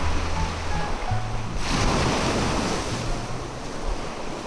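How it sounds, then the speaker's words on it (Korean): Ocean waves wash onto the shore of a small seaside fishing village in a steady roar with a swelling surge midway, heavy wind buffeting the microphone and no one speaking. "이 시원한 파도 소리를 들으니까 기분이 너무 좋은데요"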